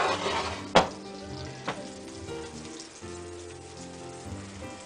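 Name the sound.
breaded vegan chicken scallopini frying in a pan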